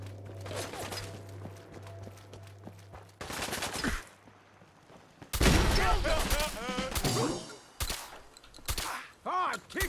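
Suppressed gunfire in Fallout 4: muffled shots crack in bursts and rapid volleys, mixed with footsteps and game sound effects. The shots are close and fairly loud, with some sparse voice sounds in the mix.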